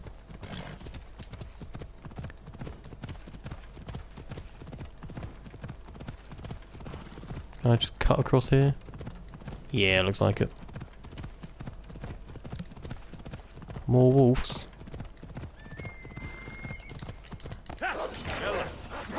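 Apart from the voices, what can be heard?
horse galloping hooves in Assassin's Creed Odyssey video game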